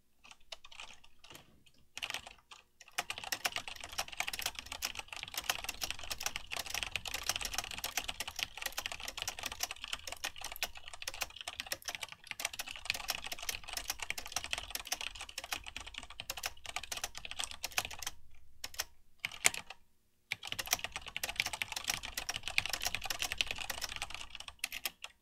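Someone types steadily on a mechanical keyboard with unlubed Deck Legend switches on a desk that transfers vibration, a quiet, continuous patter of clicky keystrokes with a couple of brief pauses and no voices.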